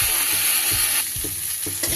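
Ginger garlic paste fries in a pan while being stirred, a steady close sizzle with rhythmic scraping strokes of the spatula against the pan.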